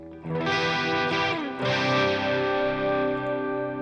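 A distorted electric guitar rings out a sustained chord, its tone sweeping and swirling with a flanging effect, loud and alone.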